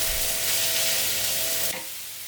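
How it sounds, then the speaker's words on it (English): Mie goreng noodles with lobster and spring onion stir-fried in a hot wok, giving a loud, steady sizzle up close that drops to a quieter hiss near the end. "Chuck in your lobster and spring onion and give it a mix."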